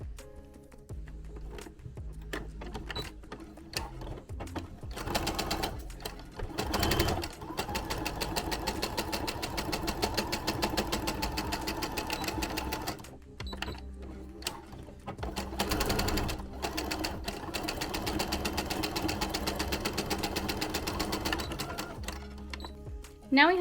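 A sewing machine stitches fabric seams for an Among Us plush in rapid, even runs of mechanical chatter, stopping and restarting several times with short quiet gaps between bursts.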